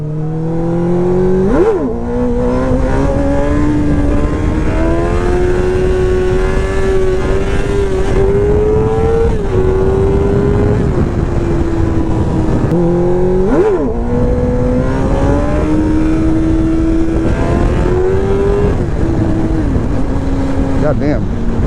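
A motorcycle engine revs hard and holds high during wheelies, its whining pitch rising and dropping in two long pulls, loud and close with wind buffeting over it.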